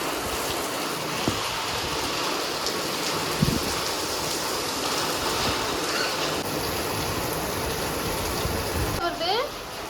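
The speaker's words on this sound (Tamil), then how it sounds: "மழை செம்மையாக மழை பெய்யுது பார்க்குறீங்களா?" Heavy rain pours down as a dense, loud, continuous hiss of water close by, with a few brief knocks and faint voices beneath it.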